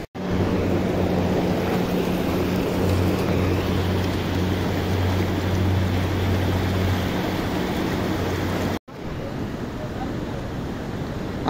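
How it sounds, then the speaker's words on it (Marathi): Seti River, the White Gandaki, rushing below near Pokhara, a loud continuous roar of flowing water with wind buffeting the microphone and a low hum partway through. "ही ओरिजिनल नदी खालनं वाहते पांढऱ्या पाण्याची, सफेद गंडकी सेती नदी."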